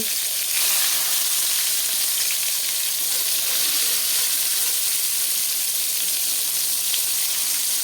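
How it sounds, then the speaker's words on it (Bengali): Eggplant slices fry in hot oil with a steady, dense sizzling hiss that stays even and close throughout, with no voices. "এখানে আমি বেগুন ভাজার জন্য তেলে দিয়ে দিয়েছি"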